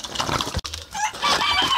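Chickens cluck and call in a rural yard where turkeys also roam, a busy, close chorus of fowl voices, with a brief sharp knock partway through.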